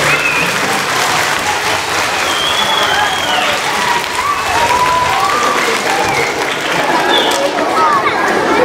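A concert crowd at a Hungarian band's show applauds and cheers continuously, a dense, loud wash of clapping with scattered whistles and shouts throughout.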